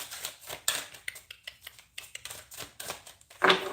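A tarot card deck shuffled close up in quick papery bursts, riffling and slapping irregularly, with a sharper flutter near the end; no talking.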